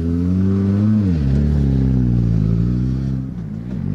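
Rally car at Rally Serras de Fafe e Felgueiras on the Lameirinha stage, its engine roaring loudly with a strong droning note that dips as it lands over a jump, then eases off and picks up again.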